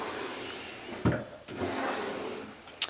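A wooden drawer slides open and shut with a couple of soft thuds and a rubbing scrape, close by in a quiet room.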